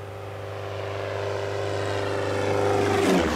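A biological-control airplane flies over a plantation to drop trichogramma wasp eggs, its propeller engine droning steadily and growing louder as it approaches, with no talking.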